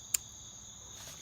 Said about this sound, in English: crickets and critters are still buzzing about, so you probably hear that in the background